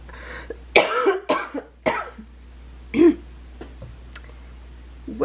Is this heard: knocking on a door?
no